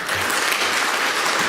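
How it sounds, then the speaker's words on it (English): Brief burst of audience clapping at an international conference hall, a steady wash of many hands heard up close for a moment. "Those claps are not enough"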